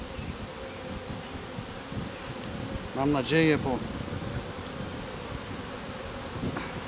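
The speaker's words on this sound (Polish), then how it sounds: "Żeby sobie pszczoły spokojnie dalej pracowały." Honey bees buzz at a hive in a continuous droning hum, with a brief spoken remark cutting in over the buzzing midway.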